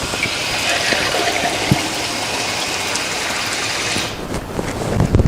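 Water poured into a pot of artichokes, a steady close rushing splash with some clinking and rattling, easing off near the end.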